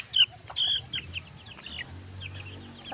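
A chicken clucks several times close by in short bursts, with faint farmyard background and no talk.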